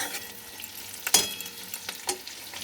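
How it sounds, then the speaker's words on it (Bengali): Onions and capsicum frying in a pan over a high flame, a soft continuous sizzle broken by a few sharp stirring scrapes and crackles, without any talk. "বেশি ভাজবো না, 2 মিনিটের মতো ভেজে নেব"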